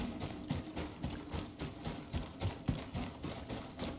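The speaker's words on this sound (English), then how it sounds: "That's a horse." In the survival video game Icarus, a horse's hooves clip-clop in a quick, regular rhythm, moderately close and fairly quiet, with no talk.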